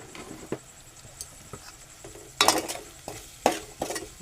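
Onions being sautéed in a pan for an aubergine, potato and drumstick curry, with spatula scrapes and clinks against the pan at irregular intervals over a low, faint sizzle and no speech.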